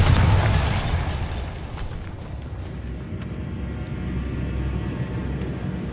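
Bombarda spell blast in a Harry Potter video game: a loud, deep explosive boom at the start that rolls off into a sustained rumbling tail with faint crackles.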